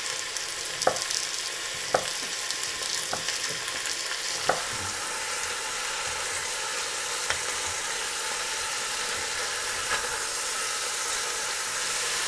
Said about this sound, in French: On fait revenir donc les morceaux.